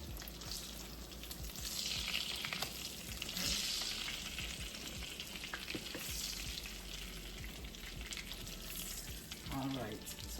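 Sausages frying in a pan, a steady soft sizzle and crackle that carries on without letup, quiet and close, with faint kitchen noise near the end.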